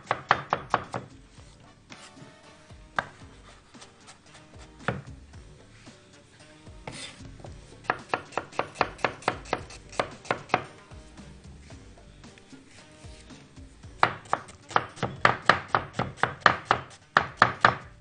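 A knife chops onions on a cutting board, producing close, crisp, rhythmic strikes that start in short irregular runs and then speed up into rapid, steady chopping.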